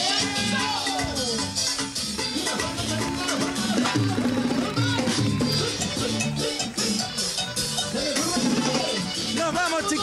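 Lively band music, played at a steady loud level throughout with dense rhythmic accompaniment and bright melodic lines, full and continuous with no pauses.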